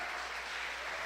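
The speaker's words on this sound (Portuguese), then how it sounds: "Você que pode aplaudir o Senhor Jesus, aplaude Ele lá em cima" A church congregation applauds during a worship service, a brief, dense and steady burst of many hands clapping heard at moderate volume.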